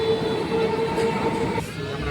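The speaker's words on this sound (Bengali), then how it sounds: "বন্ধুরা, আমাদের ট্রেনটা ছেড়ে দিল শিয়ালদা থেকে, পুরো কারেক্ট টাইমে ছেড়েছে।" Gour Express passenger train running after leaving Sealdah, heard from inside the coach as a steady, loud rolling rumble with a sustained tonal whine, with a brief change near the end.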